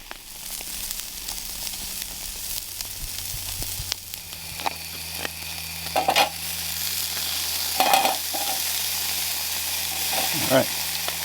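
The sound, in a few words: steak sizzling while cooking over a campfire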